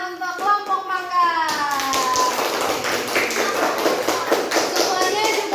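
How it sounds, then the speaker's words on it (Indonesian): Schoolchildren in a third-grade class clap for the winning group, with a quick patter of small hands under a teacher's voice and children's chatter, fairly close and lively. "Tepuk tangan untuk kelompok mangga."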